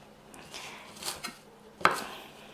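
A knife chops washed cilantro on a cutting board, giving a few sparse, sharp taps, the last one the loudest.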